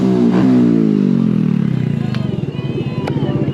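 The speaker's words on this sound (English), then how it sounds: "We got some more bikes pulling up." Motorcycle engines at a Burger Culture bike meet, one bike's note dropping and pulsing as it rolls in and settles to a throbbing idle, loud and close, with a murmur of people around.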